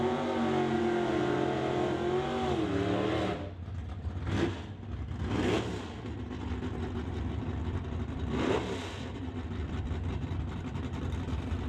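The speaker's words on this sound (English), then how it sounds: "we got the Pro Mods in the staging lanes, so gonna get ready to roll it up here" Pro Mod drag racing cars in the staging lanes at a drag strip, engines running loud and steady, with sharp revving bursts as the cars roll up.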